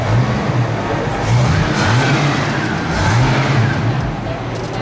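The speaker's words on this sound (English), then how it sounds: "it was a 67 Ford Mustang, soft top convertible, so it was pretty cool" A 1967 Ford Mustang soft top convertible engine revs nearby in loud, rising and falling surges with a deep rumble, while voices are faintly mixed in.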